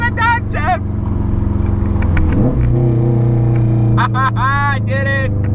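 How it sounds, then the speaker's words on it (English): Loud, continuous exhaust drone from a straight-piped Subaru with the muffler deleted, its pitch dipping and shifting midway as the car downshifts, while people shout excitedly over the engine at the start and end. "For the downshift! Wait for the downshift!"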